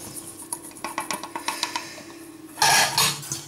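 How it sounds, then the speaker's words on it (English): Oatmeal and a flour mix of plain white and wholemeal flour with salt and sugar being whisked in a bowl, a run of quick light clinks of the whisk against the bowl, then a louder, fuller burst of stirring near the end. "Whisk it together."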